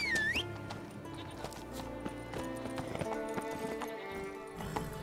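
Roach, a horse in The Witcher 3, clops along with rhythmic hoofbeats, and a brief whinny and other game sounds come in around the steps.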